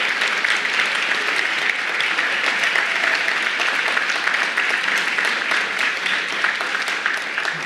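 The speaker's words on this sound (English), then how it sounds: "Let's give all of our awardees one final round of applause." Audience at a law school's annual student recognition celebration applauds the awardees, producing a dense, sustained roar of many hands clapping at full strength for the whole stretch, with no talk over it.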